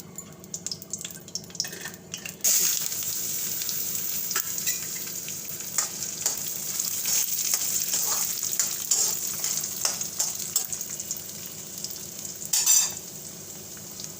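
Mustard seeds tempering in oil in a kadai, a steady bright crackling sizzle that jumps louder after a quiet start, with occasional metallic spoon taps against the pan.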